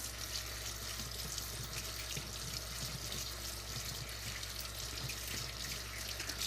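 Water runs steadily from a tap, a continuous hissing splash throughout with no pauses, as a spatula is re-wet while decorating a cake.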